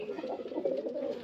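Pigeons kept for sale at a home in Beldanga Uttarpara coo steadily and close by, a continuous soft throaty murmur of overlapping birds with no talking.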